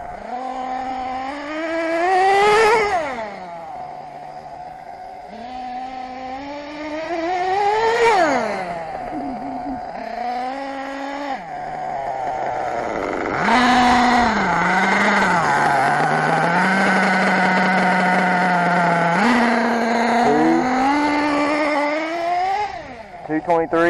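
A nitro RC engine runs through break-in in cold weather, its high buzzing whine rising and falling through repeated throttle blips and sustained revs, loud and close, with a voice talking over it.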